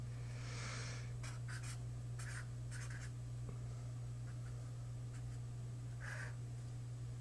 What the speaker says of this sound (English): Here, let me just write that.